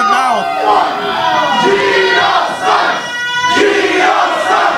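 Wrestling crowd at a PWL match chanting in unison against a heel wrestler, loud massed voices rising and falling in rhythmic, jeering waves that fill the arena.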